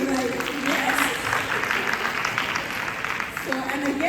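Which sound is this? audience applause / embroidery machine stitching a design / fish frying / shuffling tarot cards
audience applause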